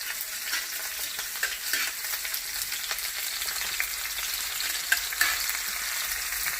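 Onions sizzle steadily in a frying pan with garlic for shrimp halabos, a continuous bright crackling hiss with occasional stirring clicks and small pops, close and alone.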